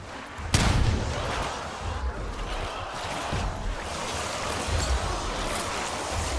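A stun grenade goes off in Black Ops 7 Zombies with one sharp, loud bang, followed by a dense wash of gunfire, thuds and game noise that continues throughout without voices.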